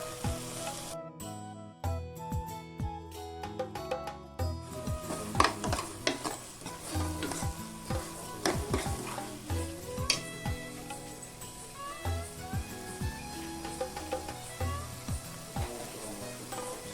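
Ginger and garlic fry in a pan for a homemade parotta salna gravy, a soft sizzle with scraping spoon strokes and clicks, with music playing over it, most clearly at the start.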